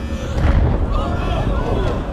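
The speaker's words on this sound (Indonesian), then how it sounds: "Namun saat akan keluar orbit, roket mengalami malfunction lalu meledak." A rocket explodes shortly after launch as a film sound effect, a deep rumbling boom that rolls on as a sustained roar for about two seconds.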